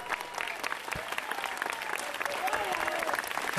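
A church congregation claps together, many hands in a lively, uneven patter that builds slightly toward the end, with a faint murmur of voices underneath.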